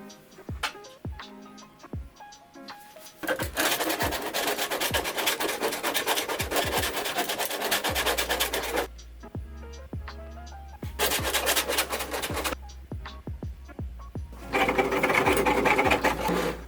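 Lexan polycarbonate body rubbed with polycarbonate cleaner makes rhythmic, close rasping strokes that come in bursts, broken by short quiet pauses and faint taps.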